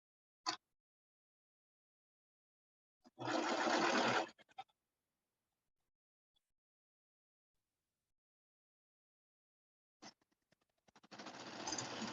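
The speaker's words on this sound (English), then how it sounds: "So I'm serging the corners only, all the way down the side." A serger overlocker runs in short bursts while finishing the edges of sewn bell pants, two fast whirring runs separated by quiet, the first about a second long and the second starting near the end, close and fairly loud with no talk.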